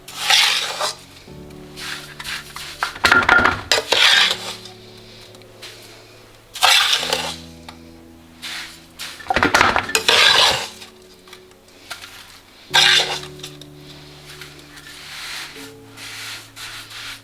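A sweet mixture being poured into a tray greased with ghee, heard as soft scraping and rubbing of a utensil against metal in several separate bursts with quiet gaps between them.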